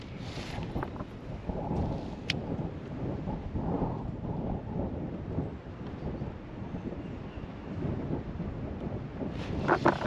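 Wind blowing hard across a lake during a kayak bass-fishing outing, a steady loud rumble and buffeting against the microphone throughout, with faint clicks and movement on top.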